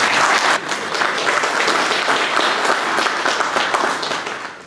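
Sustained applause from a crowd, dense and steady clapping that carries on loudly for several seconds before starting to thin out near the end.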